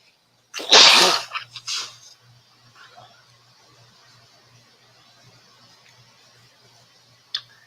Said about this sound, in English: I still occasionally sneeze